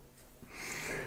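Someone takes a close, drawn-out sniff over a glass of homemade lemon mead, a soft breathy inhale that swells and holds steady for about a second.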